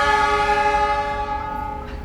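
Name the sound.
horn of CC206 locomotive departing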